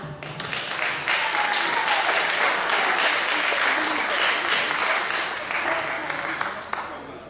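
A live-music crowd applauds the drummer of a band, a thick wash of clapping that swells quickly and holds for several seconds, with some voices mixed in, before easing off.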